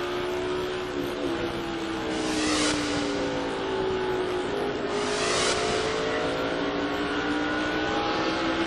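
A NASCAR race car engine screams at high RPM around an oval during a 2001 Cup race, a loud sustained whine with rising and falling pitch as cars pass, no talk over it.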